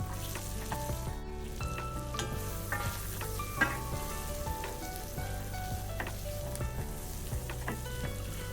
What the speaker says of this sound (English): add your onions and your bay leaf, and we're going to leave these to fry for a few minutes